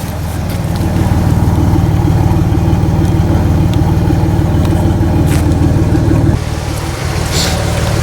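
1992 Buick Park Avenue with a 3.8 V6 idling, a loud, close, steady low throbbing rumble that drops slightly in level near the end.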